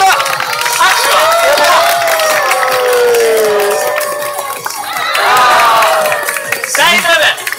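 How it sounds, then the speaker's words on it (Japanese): A street-performance audience claps and cheers loudly for a street performer, a dense burst of applause with shouts and whoops that swells, dips briefly and rises again. "めちゃくちゃ大きな拍手ください"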